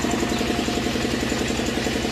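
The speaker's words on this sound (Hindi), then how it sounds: "इंजन चला रखे है।" An engine driving a water pump at a village well runs steadily, a loud continuous chugging drone with an even pulsing rhythm, close by.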